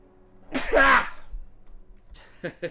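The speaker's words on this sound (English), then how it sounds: "My wife always makes fun of me for scream sneezing." A man lets out a single loud, screaming sneeze, a sharp voiced burst lasting about half a second, followed by quieter breathing and a couple of short rustles.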